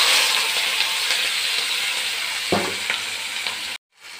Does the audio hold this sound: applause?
no